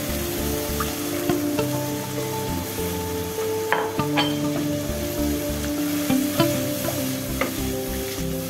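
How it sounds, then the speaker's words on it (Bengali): A spice paste with white mustard paste and water fries in a pan for chicken curry, a steady close sizzle broken by a few sharper stirring scrapes, with no talking. "পানি দিয়ে মশলাটা কষিয়ে নিচ্ছি।"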